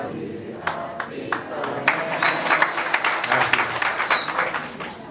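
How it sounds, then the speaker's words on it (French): A crowd applauds after the national anthem, starting with scattered claps that build into dense, sustained clapping, with a shrill whistle cutting through partway. "Merci pour cette acclamation de l'hymne national"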